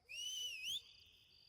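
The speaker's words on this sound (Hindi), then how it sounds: "अरे कौन सीटी बजा रहा है ये?" A person whistles a single sustained, clear high note that bends slightly in pitch, then cuts off sharply, heard alone against a quiet background.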